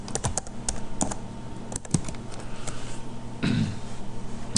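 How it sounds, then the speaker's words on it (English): Keys on a computer keyboard clatter in quick bursts of clicks, close and moderately loud, with a brief throat-clearing sound partway through. "So I'm going to type in strong passwords"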